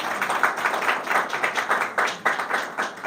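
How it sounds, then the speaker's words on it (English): Audience applause at a congressional briefing on fatherhood for Black men, a moderate patter of clapping hands from a room of listeners, steady for the full few seconds without any talk over it. "Let's give her another round of applause."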